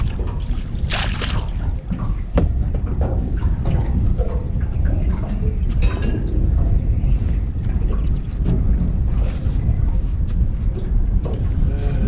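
Constant wind buffeting with water sloshing and splashing against a fishing boat's hull at sea; a loud, rushing roar with no talking.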